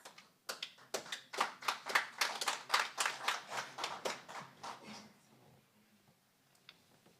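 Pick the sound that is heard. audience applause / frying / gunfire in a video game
audience applause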